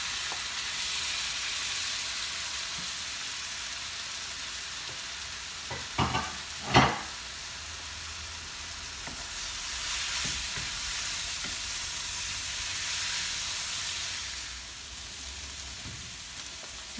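Chilies and onion fry gently in butter with a low, continuous sizzle, and a couple of quick spoon scrapes come close together midway through.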